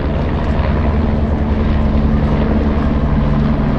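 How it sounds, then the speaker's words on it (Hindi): A helicopter lifts off from the Kedarnath helipad during snowfall, its engine and rotor making a loud, steady, close drone that continues without a break and with no talking. "वहाँ से हेलीकॉप्टर उठ रहे हैं"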